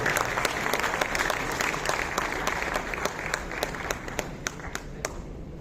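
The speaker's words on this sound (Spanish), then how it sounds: "Un fuerte aplauso para el arquitecto que estoy aquí en el colegio." A conference audience applauds an architect, a broad wash of crowd clapping with distinct sharp claps standing out, steady and fairly loud before tapering off toward the end.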